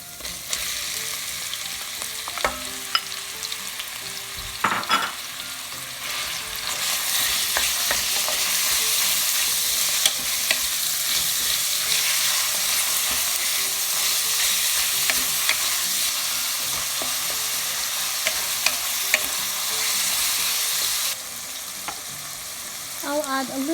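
Ground pork sizzling and frying with garlic in a pan, a steady loud sizzle with repeated stirring scrapes and utensil knocks, no talking.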